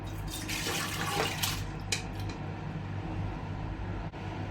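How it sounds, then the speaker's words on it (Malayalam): Soaked, washed dal and its water pour into a pressure cooker in a home kitchen, a continuous close splashing gush that fills the whole moment, with no voices. "ഇത് നമുക്ക് കുക്കറിലേക്ക് ഒഴിക്കാം."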